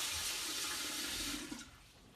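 Warm water rushes steadily into a measuring cup in a home kitchen, a close, splashing pour that tapers off and stops near the end.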